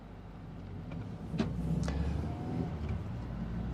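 A 2016 third-generation Audi TT Roadster driving on B roads, a low steady engine and road rumble heard from inside, with a couple of brief higher whooshes as it moves along.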